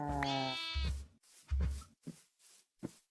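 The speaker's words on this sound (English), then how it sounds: "So we need to shear the sheep." A blocky Minecraft Sky Factory sheep lets out one bleat while being sheared, followed by a few short, quiet game clicks.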